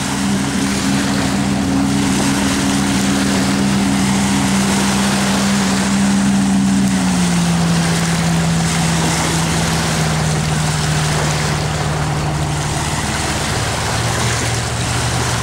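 A 2012 Veranda 2275F4 fishing boat's 115 hp Yamaha four-stroke outboard drones steadily and loudly, its pitch shifting slightly as it passes, over a constant wash of water and wind.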